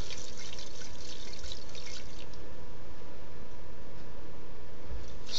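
Liquid swished inside a deep metal coffee can as a powder dissolves for a green flame experiment, a continuous sloshing, dripping wash of sound, close and fairly loud, with no talking.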